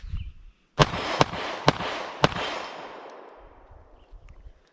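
Four sharp gunshots from a Gen 5 Glock 19X pistol fired in quick succession, loud and close, each crack trailing into a long outdoor echo that fades away.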